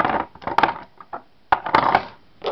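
Small glass nail polish bottles clinking and knocking as they are placed back into a box, a few quick sharp clatters in two bursts, close and fairly quiet.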